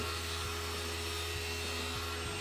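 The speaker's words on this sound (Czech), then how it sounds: "takže potom spustím oba ty vysavače najednou" Two workshop vacuum cleaners run together as dust extraction for power tools, a steady loud droning whine with constant motor hum, near and unbroken, with no talking.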